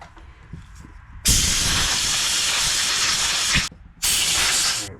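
Compressed air blasts across a Toro TimeCutter Z4200 zero-turn mower being cleaned during an overhaul, a loud, steady hiss lasting over two seconds, a brief pause, then a second burst, close by.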